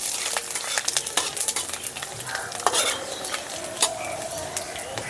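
Bay leaf, dried red chilli and panch phoron sizzle in hot oil for a prawn and ash gourd ghonto: a steady close hiss of frying with scattered scrapes and clicks from stirring, and no talk.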